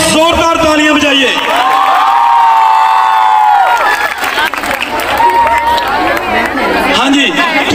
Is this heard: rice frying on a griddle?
no